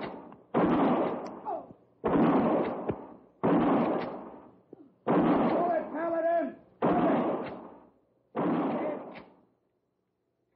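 Rifle gunfire from an old 1958 radio drama western: a steady series of about six loud booming shots, each with a long rolling echo, spaced roughly every one to two seconds, with brief voices shouting between them.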